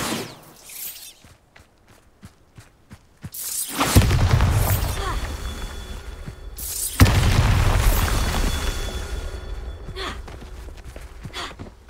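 Bombarda spell blasts in Hogwarts Legacy, two heavy booming explosions with rumbling debris tails, the second following a few seconds after the first, preceded by quiet footsteps.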